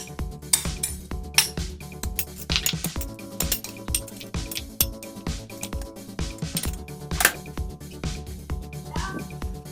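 A utensil stirs salted turtle dove meat in a bowl, giving repeated bright clinks and scrapes against the bowl at an irregular rhythm, close and clear, with faint background noise.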